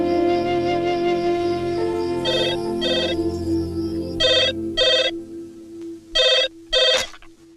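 A telephone rings in repeated bursts of a bright electronic bell tone, loud and close, over a sustained musical score, with gaps of quiet between the rings.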